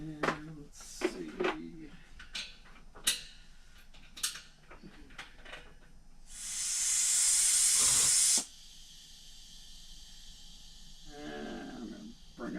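A compressed-air spray gun on a car restoration project releases a loud, steady hiss lasting about two seconds, set among scattered knocks, shuffling and brief talk.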